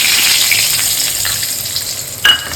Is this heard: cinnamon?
yes